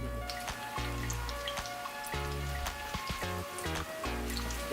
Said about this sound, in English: Deep frying is pretty consistent in that it just totally blasts everything pretty quickly.